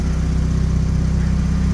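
A car engine idles steadily with its air conditioning compressor turning, giving a continuous low rumble close by for the whole short stretch, with no voices.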